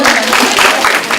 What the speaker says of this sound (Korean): 이럴 때 박수 한번 주세요